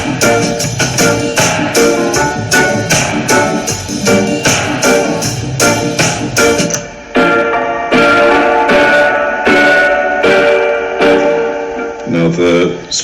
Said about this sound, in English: I'll show you what the spring sounds like.